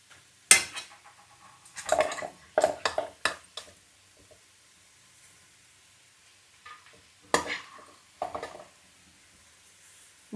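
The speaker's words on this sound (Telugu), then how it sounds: "వీటితో పాటు చికెన్ కూడా బాగా వేగనివ్వాలి." Chicken pieces frying for Mughlai biryani while being stirred: sharp, close clatters of a utensil against the pan in irregular clusters, separated by quiet stretches of faint sizzling.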